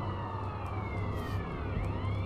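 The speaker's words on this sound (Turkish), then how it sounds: "Yolda ambulans var gene. Çok fazla ambulans var ha." Wailing emergency siren from an ambulance in GTA San Andreas with a Biohazard Alert mod, sweeping up and down under steady car engine noise and game ambience, fairly quiet in the mix.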